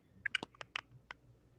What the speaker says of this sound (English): I hear some clicking.